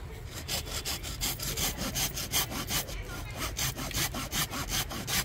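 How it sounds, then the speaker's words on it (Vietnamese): Hand saw cutting through a branch of a bonsai fig tree, rapid rhythmic back-and-forth rasping strokes, close and steady for several seconds with no voices over them. "lưỡi cưa ăn xuống rồi. Thì cứ cưa lại."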